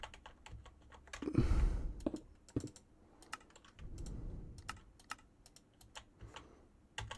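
Keys clatter on a computer keyboard in quick irregular bursts, with a few louder thumps mixed in, close and clear with no talk.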